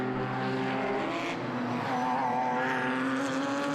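A Ginetta race car driven by Ivan Muller at Zolder during a three-hour endurance race, its engine droning loudly and steadily with pitch rising and falling through gear changes along the track.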